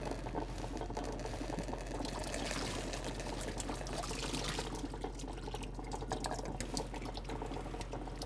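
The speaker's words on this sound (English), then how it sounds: "So we just drain the tapioca." Cooked tapioca pearls drained through a strainer, a steady close rush of pouring water that runs continuously for several seconds with no talking.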